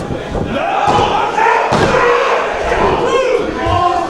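A clothesline and heavy body impact in a wrestling ring land amid a roaring crowd, with sharp thuds and slams cutting through shouting voices and excited commentary.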